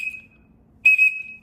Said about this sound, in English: if we're all blowing the whistles at the same time, that'll amplify it